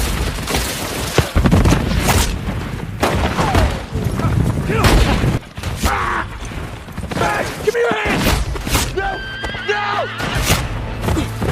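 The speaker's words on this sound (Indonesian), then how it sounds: "muncullah tembakan yang membuat satu anak buah Dan Red tewas" Gunfire erupts in a Western film shootout, with booming shots and volleys mixed among horses whinnying and hooves clattering, loud and busy, with voices heard now and then.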